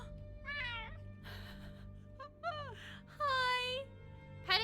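A domestic cat from a Skyrim cat mod meows several times in short rising and falling calls, close and clear over a low game hum, with one longer, louder meow near the end.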